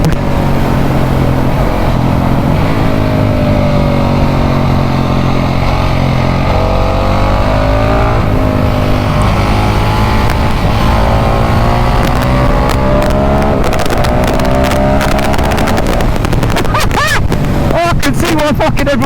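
A single-cylinder motorcycle, a KTM 690 SMC R or Ducati Mono 698, revs hard under throttle while being ridden, its loud engine drone rising and falling steadily beneath heavy wind rush, with a rider speaking over it.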